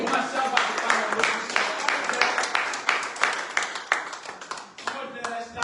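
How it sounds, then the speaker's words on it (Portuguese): Church congregation breaks into a sustained round of clapping, dense and steady for several seconds before thinning into a few scattered claps at the end. "Uma salva de palmas"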